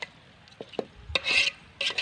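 A spoon stirring country chicken curry in a pan, a few soft scrapes and rubs at close range, then brief louder bursts of scraping toward the end, with no talking.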